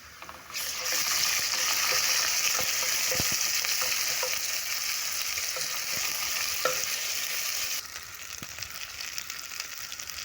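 Onions, ginger and garlic fry in a pan, producing a steady broadband sizzle throughout with scattered scraping stir clicks. The sizzle quiets slightly near the end.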